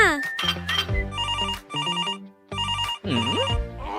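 A mobile phone rings in a cartoon story about a little monkey, with a bright electronic ringtone repeating in short bursts and brief gaps, and a voice at the start and end.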